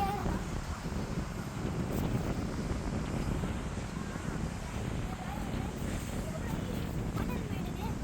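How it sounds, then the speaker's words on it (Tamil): Strong wind at Kalpakkam beach in Tamil Nadu roars steadily across the microphone as a continuous buffeting rumble for the whole stretch, while a person talks over it. "இங்கே பாருங்கள் எவ்வளோ காற்று அடிக்கி."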